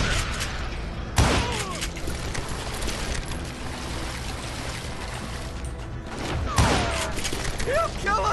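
Gunfire in the Western video game Call of Juarez Gunslinger, two loud sharp shots several seconds apart over a dense, constant wash of game noise with some talk.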